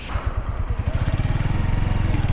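An RKS RN 180 motorcycle engine idles and then revs up close by, its rhythmic putter quickening into a steady, rising pulse.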